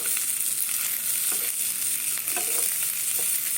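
Potatoes fry in a hot pan with curry leaves, cumin and Kashmiri red chilli, giving a steady loud sizzle broken by a few soft scrapes of stirring.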